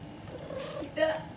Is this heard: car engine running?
no